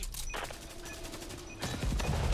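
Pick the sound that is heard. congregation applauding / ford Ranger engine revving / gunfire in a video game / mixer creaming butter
gunfire in a video game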